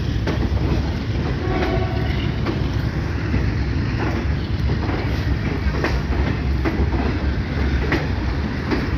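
The Kathgodam Lucknow Express rolls along in a loud, steady rumble heard from on board, with a continuous low roar and faint rhythmic clatter of wheels over the rails throughout.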